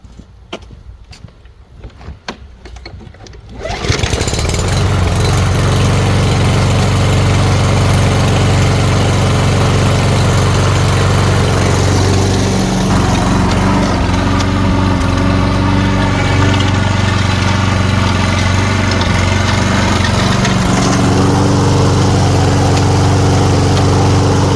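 Toro Personal Pace RWD 21462 walk-behind lawn mower started up and running steadily after a traction cable repair, a loud continuous engine drone after a few seconds of quiet handling noise.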